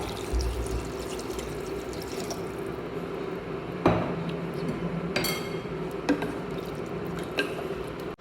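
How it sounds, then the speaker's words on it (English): Two cups of water poured into a pot holding basmati rice, a steady liquid fill with a few sharp splashes and clinks, moderately close, with no talk. "I am adding 2 cups of water"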